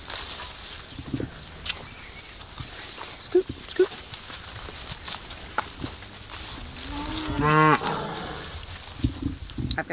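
Cattle on a farm, cows being sorted for sale, give a drawn-out moo near the end amid quieter farmyard rustling and shuffling, with a person briefly talking in the background.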